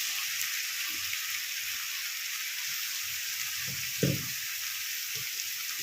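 Bottle gourd pieces frying with lightly fried potato in a pan for lau posto, a constant bright hiss of sizzling oil with a few soft knocks of a spatula stirring.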